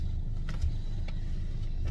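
Steady low rumble of a car interior while driving, a continuous engine and road drone with a few faint clicks and rattles, no talking.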